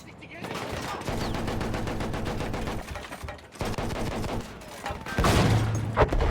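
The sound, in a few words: gunfire in video game Battlefield 1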